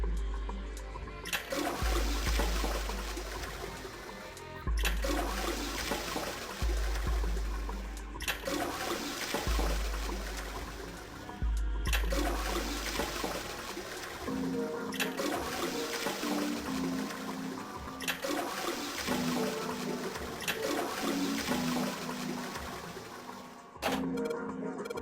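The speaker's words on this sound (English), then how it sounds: "I heard a loud flushing noise" Toilet flushes in the video game 999: Nine Hours, Nine Persons, Nine Doors, a loud rushing water sound repeated about six times in a row, each burst cut off sharply before the next begins.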